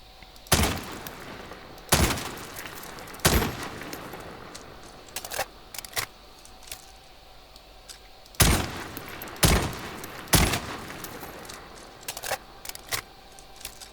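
FR 5.56 rifle firing in Call of Duty Warzone: sharp, loud bursts of shots at irregular intervals, each crack followed by brief mechanical rattles, with quiet gaps between volleys.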